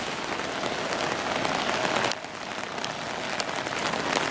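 Heavy rain pouring down near a spring-fed ditch, a dense loud roaring hiss that dips briefly midway then continues steadily, with no talk.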